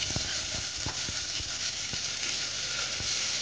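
Mustard seeds crackle in hot oil for a Malvani-style mango raita, with curry leaves already in the pan. A steady close sizzle carries scattered sharp pops throughout.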